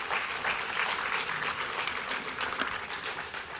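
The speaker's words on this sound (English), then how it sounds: "could I please get one more round of applause for all of our sponsors?" A public forum audience gives a round of applause for sponsors, a full, even roar of many people clapping throughout, with no voices standing out.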